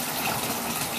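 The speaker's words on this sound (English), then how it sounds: "Fill with water." Water gushes steadily into a container, a dense, loud, continuous rush for a single second with no pause.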